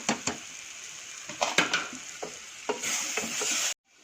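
Chilli, turmeric, coriander powders and garam masala sautéing in a pan for a chicken dish, a steady close sizzle broken by several sharp spoon scrapes and taps against the pan, ending abruptly.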